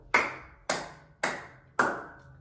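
Four crisp, close hand claps, evenly spaced with a short ring after each, open a body-percussion routine set to Brahms' Hungarian Dance.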